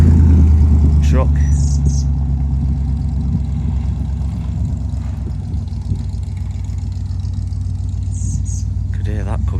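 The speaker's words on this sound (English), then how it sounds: "Chevrolet truck." 1960s Chevrolet truck engine idling and rumbling close by at an outdoor car show field, a steady low throaty drone throughout, with a person talking over it.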